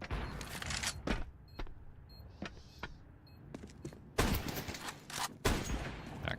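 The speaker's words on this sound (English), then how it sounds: "Wallbang's coming at him." Rapid bursts of gunfire in the Counter-Strike video game, shot through a wall, crack in loud clusters with quieter gaps between volleys.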